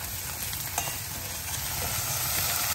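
Cloves, cardamom, cinnamon, bay leaf, asafoetida, ground masala, Kashmiri chilli powder and turmeric frying in mustard oil, a close, steady crackling sizzle with faint stirring scrapes.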